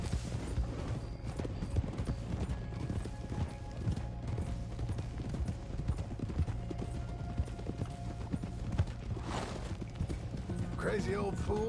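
Horse hooves clip-clop steadily in the video game Red Dead Redemption 2, a continuous walking rhythm beneath game ambience, with voices talking over it and a louder burst near the end.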